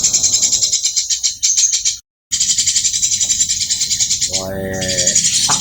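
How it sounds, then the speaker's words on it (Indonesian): Recorded natural songbird calls used as training audio for caged birds, rapid repeated high chirps and trills in loud continuous bursts, with a short break of silence and a brief lower warbling phrase late on. "ini pakai Moncergo digital mastering buat burung-burung yang suaranya alami"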